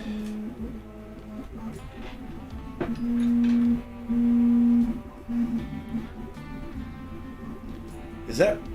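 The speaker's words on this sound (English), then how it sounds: "Is that printer being like real noisy next to that microphone like that?" A Trident 3D printer runs right beside the microphone, its stepper motors giving off a droning, moo-like whine that swells into two long, loud sustained tones midway over a constant mechanical hum.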